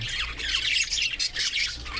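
Male budgerigars squawking and chattering, a close, busy run of shrill, raspy calls overlapping with no pause.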